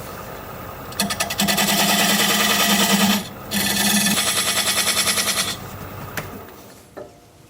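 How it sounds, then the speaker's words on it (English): Wood lathe spinning a butternut blank while a diamond point tool flattens the sides of a tenon, giving a loud buzzing, chattering cut in two bursts with a short gap, then fading to quieter scraping. "use this diamond point tool to flatten the sides of the tenon"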